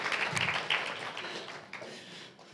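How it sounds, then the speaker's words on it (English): An audience applauds guests as they are brought onstage at a live speaking event, a broad wash of clapping that starts full and slowly thins and fades over a couple of seconds. "Please give them a round of applause."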